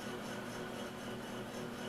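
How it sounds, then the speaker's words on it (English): A palm sander works over wood with a steady, even buzzing rasp, uninterrupted and fairly quiet, with no voices. "Brought in the palm sander."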